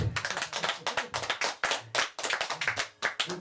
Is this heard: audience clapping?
yes